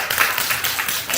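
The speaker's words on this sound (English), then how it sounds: "Give him a round of applause." Brief applause from a lecture audience at an academic talk on scientific misconduct: a short wash of many hands clapping, steady and fairly close, with no talk over it.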